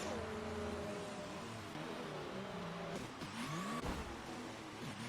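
Cars in the F1 2019 racing game spin through donuts, a steady close engine drone with rising and falling revs and a sharp sweep near the end, with no talk.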